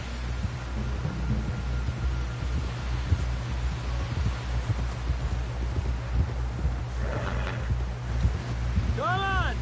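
Horse hooves clip-clop steadily in Red Dead Redemption 2, a continuous rhythmic trot under a wash of wind and ambient outdoor noise, with a faint musical tone near the end.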